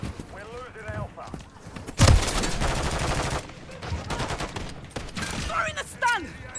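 Bursts of rapid enemy gunfire in a multiplayer shooter, a dense volley of automatic shots erupting and rattling on for a few seconds, with excited shouting before and after.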